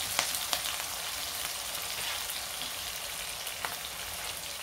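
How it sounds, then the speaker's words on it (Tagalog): Chopped garlic and spring onion frying in a pan as the garlic browns, a steady close sizzle with occasional soft pops and crackles, no voices. "Iluto lang ng konti hanggang mag-brown yung bawang"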